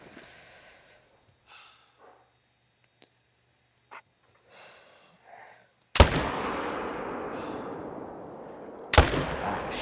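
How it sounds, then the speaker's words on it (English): Two loud rifle shots boom at a wolf in a daylight hunting video game, the first followed by a long rolling echo and the second cutting in near the end, after quiet stretches with faint animal snorts. "Since this is a main zone, we will shoot him."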